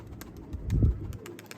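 Tumbler pigeons coo once in a soft, low burst, close by, with faint chirps around it and no talking.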